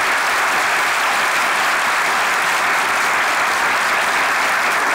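Dense, steady studio audience applause at full volume on a Turkish comedy sketch show, many hands clapping continuously without a break and no voices standing out.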